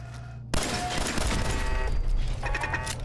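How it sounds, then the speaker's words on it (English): A machine gun turret in Fallout 4 opens fire abruptly after a quiet start. It unleashes a loud, sustained burst of rapid shots that dips only briefly before the mechanical clatter carries on. "Machine gun turret."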